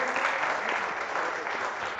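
Applause from an audience at a Gujarati poetry gathering, a dense, even burst of clapping sustained throughout, fairly near and filling.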